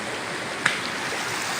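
A normally dry Arkansas creek running full with rainwater draining off the fields, giving a steady, close rushing and burbling wash of water with one brief splash, heard without speech.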